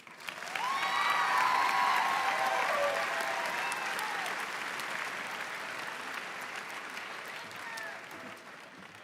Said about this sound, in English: Let's give one more round of applause for the class of 2026